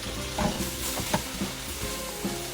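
Beef fajitas sizzle in a pan under a constant frying hiss, punctuated by several soft scraping stirs at irregular intervals; nobody speaks.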